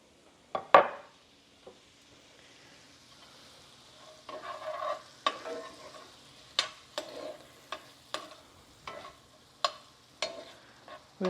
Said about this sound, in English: Then I'm going to add my veggies to saute.